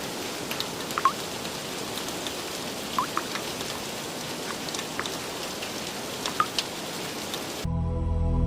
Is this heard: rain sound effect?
yes